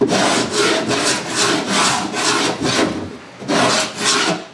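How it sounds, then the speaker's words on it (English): Repeated rhythmic rasping strokes of a sander smoothing wooden boat hull interior panels, loud and close, with a short pause before the passes resume. "sanding machine,"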